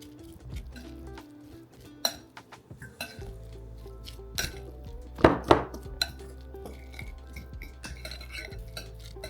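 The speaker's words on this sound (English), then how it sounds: "You just want to make sure your lettuce is not dry, so mix as much as you like for your lettuce." Lettuce salad being tossed in a bowl for a chicken Caesar salad, with quiet soft rustling and scattered clinks and scrapes of utensils against the dish, including a brighter burst of clinking in the middle.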